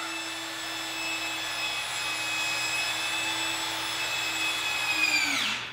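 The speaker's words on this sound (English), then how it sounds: "So I'm literally drilling down into the subfloor so you can get at it from the basement." A drill with a 1.25 inch bit bores down into the subfloor of a log home, a steady whining motor tone with bright overtones holding for several seconds, then spinning down sharply as it stops at the end.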